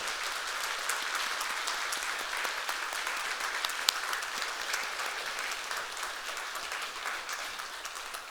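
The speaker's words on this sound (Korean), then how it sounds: "우리 저놈들 한번 박수로 한번 격려합시다." A church congregation claps together for the young people, a dense, steady wash of applause holding evenly throughout with no voices on top.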